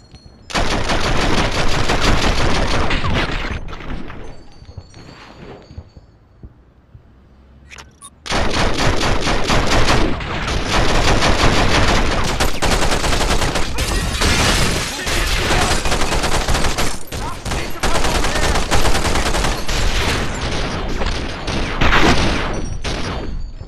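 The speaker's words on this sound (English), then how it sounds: "You realize we're being shot at," Sustained automatic gunfire and rapid shots in The Matrix: Path of Neo, loud and dense, with a brief lull around the middle before the barrage resumes.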